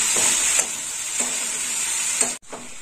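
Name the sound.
chichinga (snake gourd) being stir-fried in a pan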